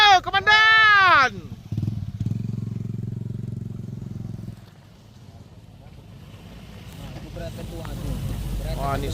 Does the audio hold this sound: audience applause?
no